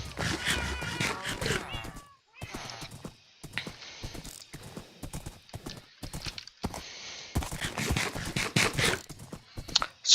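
A horse in the video game Minecraft trots along with a steady clip-clop of hooves, broken by short neighs and whinnies, with a pause in the middle and no talking.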